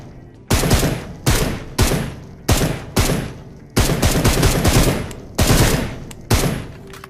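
Automatic gunfire in the video game PUBG, loud close bursts of rapid shots repeating about every half second to a second, alone and without talk.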